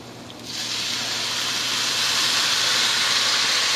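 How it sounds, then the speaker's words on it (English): Chicken broth poured into a hot pan for paella sets off a sudden loud steaming hiss that swells after a quiet start and holds steady, close and alone. "instead of water, I am going to use chicken broth"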